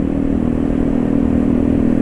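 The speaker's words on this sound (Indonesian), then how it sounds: "Ketika filter dipasang, mesin masih bisa nyala" A Yamaha NMAX scooter engine idles just after its air filter has been refitted, giving a steady, close, slightly clattering hum that stays even throughout with no talking.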